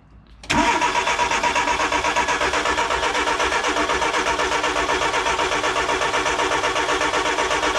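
A carburetor engine with the choke fully on and an empty carburetor cranks and catches abruptly after a brief quiet start, then runs at a loud, steady, slightly pulsing idle.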